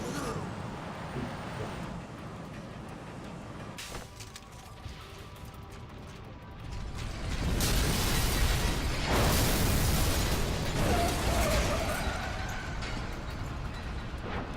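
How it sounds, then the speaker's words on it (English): A C4 charge detonating in the video game Vanquish, a loud, broad blast that swells and rumbles on for several seconds over ongoing game noise. "Fire in the hole! C4. You're safe to detonate now."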